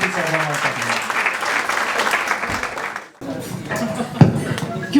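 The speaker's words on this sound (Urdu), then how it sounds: "خواتین حضرات بھرپور تالیاں بجائیے" An audience at an International Women's Day event and media launch gives a burst of full, dense clapping that ends abruptly, then a speaker's voice continues over the room.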